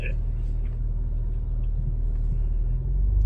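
A car engine holds a steady, low rumble under smooth, constant throttle during a driving lesson, close and continuous throughout with no obvious revving.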